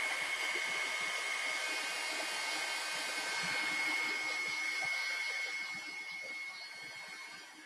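A hair dryer blows steadily on leaves being dried for dream catcher crafts, a constant close whoosh and whine that softens slightly toward the end, with no voices.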